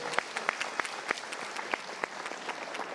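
Brief, modest applause from a small audience at a motivational talk show, a steady patter of separate claps heard fairly faintly for about three seconds with no talk over it.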